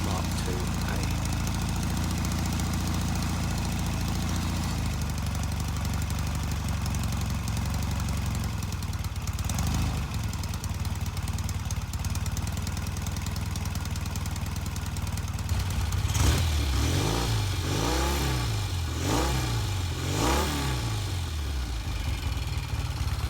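A 1974 Norton Commando 850 Interstate motorcycle runs with a steady, lumpy idle close by, then blips its throttle several times toward the end in rising and falling revs.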